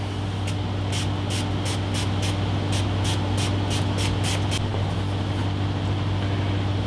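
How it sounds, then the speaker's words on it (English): Repeated short hisses of a spray bottle spraying liquid onto a sci-fi diorama, about a dozen quick pumps in a steady rhythm, over a constant low mechanical hum. "Now we'll just spray that."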